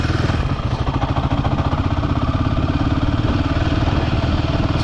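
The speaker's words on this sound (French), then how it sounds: "Petit moteur tout neuf." A brand-new Royal Enfield Himalayan 450 single-cylinder motorcycle engine, still in break-in, runs steadily and close up with a continuous low throbbing rumble and mechanical clatter, and no voices over it.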